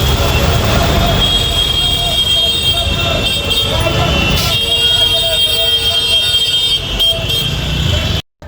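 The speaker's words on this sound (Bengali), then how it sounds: "প্রতিটা গাড়ি অযথা এত হর্ন দেয় যাতে কানের পুরো 12টা বেজে যায়" Vehicle horns honk again and again over a steady roar of busy street traffic in India, close and loud, with overlapping toots throughout and a brief drop at the end.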